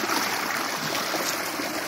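Water released into a small model of the Marne river flows and trickles in a steady, close, bubbling stream with no voices.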